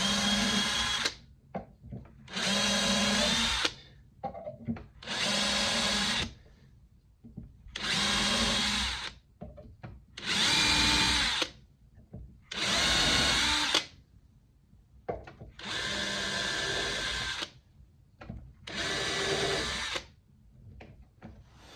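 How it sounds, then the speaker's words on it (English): A power drill runs in repeated short bursts while drilling small holes during guitar fret leveling, about ten whirring runs of a second or two each, separated by brief silences. "And then I just drill these little holes."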